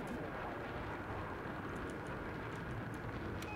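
An enemy jet roars through a video game battle, a steady broadband rumble that fills the whole moment with no break, while faint clicks sit above it.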